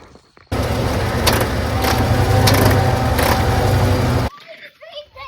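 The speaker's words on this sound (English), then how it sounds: "Getting the truck to leave, I've got no drive, no reverse, nothing. It's all neutral." A truck engine with its transmission stuck in neutral, producing a loud, sustained rumble for several seconds that ends abruptly, followed by a voice.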